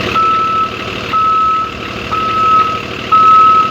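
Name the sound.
bus reverse beeper in Rigs of Rods video game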